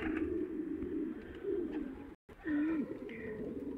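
Pigeons coo in a nest area, soft rolling calls repeating close by across the whole stretch with a brief silent gap near the middle.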